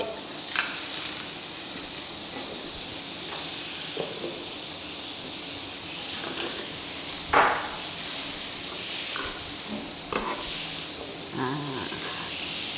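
Butter sizzles in a pan over low heat for a seafood spaghetti stir-fry, a steady, fairly loud hiss with occasional faint clicks and pops.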